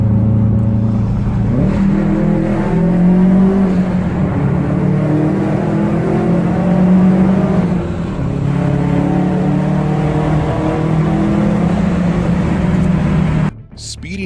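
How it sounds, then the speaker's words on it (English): A loud car exhaust roars and climbs in pitch as it accelerates, echoing in an enclosed tunnel, ending with a sudden cut-off. "inside the tunnel, the sound of the vehicle's exhaust system was amplified"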